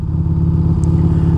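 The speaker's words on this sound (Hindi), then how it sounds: "ये कस्टम एग्जॉस्ट है, नॉर्मल जो एग्जॉस्ट होता है बाइक में वो नहीं है, एंड इसीलिए ये लाउड है" A superbike fitted with a loud aftermarket custom exhaust in place of the stock one, idling with a steady, deep, throbbing rumble close by, alone and without talk.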